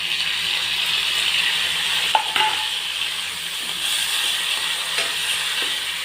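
Tomatoes hitting hot oil with onions, chillies, cumin, asafoetida and curry leaves in a pan, giving a steady loud hiss and sizzle with occasional stirring clinks, continuous and close.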